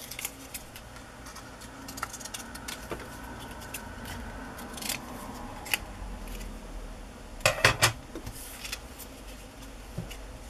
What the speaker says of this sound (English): I'm just gonna grab my scissors and trim that off.